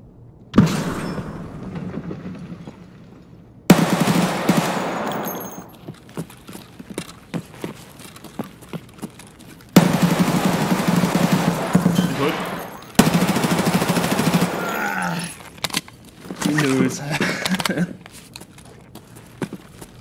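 Bursts of gunfire in the online shooter game Escape From Tarkov, with several loud volleys and sharp shots separated by quieter stretches, heard alongside players talking.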